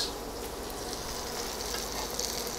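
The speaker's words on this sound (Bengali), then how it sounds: "আর রাইসটা নাড়িয়ে দেবো" Rice and chicken seasoned with salt and black pepper sizzling in a hot pan while being stirred, a steady low crackle with faint scraping and no talk.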